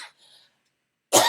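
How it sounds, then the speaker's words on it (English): A single sharp, loud cough bursts out near the end, close to the microphone, after faint room sounds and near silence. "It's just my usual cough."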